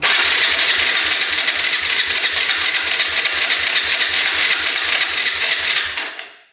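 A motorcycle engine cranks over with the throttle open during a compression test, a fast, even chugging of starter pulses that holds steady for about six seconds, then cuts off abruptly into silence.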